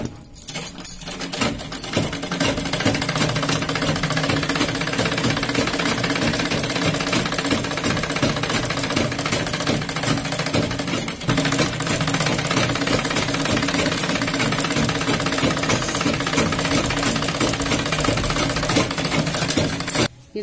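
A sewing machine stitches a fabric pouch with a foam layer between two cloth sides, running continuously and loud with a fast mechanical chatter for nearly the whole stretch.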